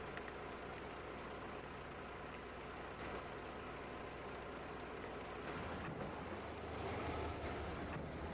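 A train hauling wagons in the Metro Exodus game gives a steady, faint rumble with a rhythmic mechanical clatter that swells slightly toward the end.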